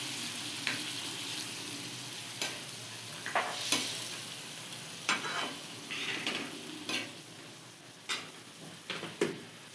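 Moth beans frying on a tawa while being stirred, a continuous close sizzle punctuated by repeated scraping strokes and light clinks of the spatula at uneven intervals.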